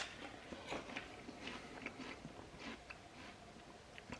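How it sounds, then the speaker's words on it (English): Crisp bites into a crunchy Peggy Asian pear, several sharp snapping crunches followed by chewing, close and fairly quiet with no talking. "when you bite into them, they just really pop"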